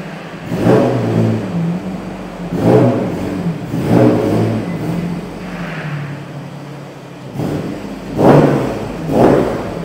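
Toyota Hilux on new 35-inch tyres setting off, its engine revving in repeated surging bursts, loud and close, each swell rising and falling over a low rumble.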